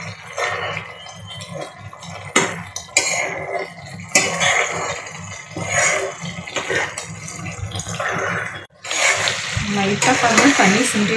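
A spoon stirs a thickening coconut burfi mixture in a pan, scraping and sizzling in irregular bursts with brief pauses. Someone talks throughout, and a cough is heard.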